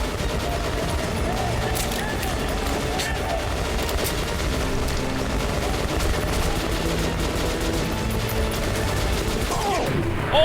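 Sustained turret gunfire in Metro Last Light, a dense, loud, unbroken stream of shots with mechanical clatter, running the whole time with occasional sharper impacts.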